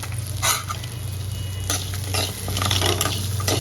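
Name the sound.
garlic and dried red chillies frying in a pan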